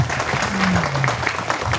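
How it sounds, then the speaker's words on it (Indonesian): An audience at a tourism and culture office gathering claps together in a steady, fairly loud burst, with a voice speaking briefly beneath the applause. "tepuk tangan buat kita semua"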